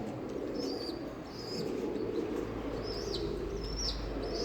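Pigeons coo softly over a steady low hum indoors, with faint chirps rising now and then among sick birds being cared for.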